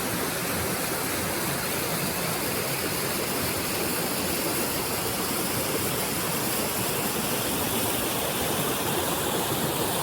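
Steady, broadband rush of water flowing below a dam, loud and continuous throughout, like water pouring and churning below a spillway, with no voices.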